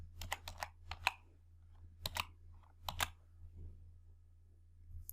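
Someone types a function into an Excel formula on a computer keyboard: quiet, close clusters of crisp key clicks separated by short pauses, over a faint low hum.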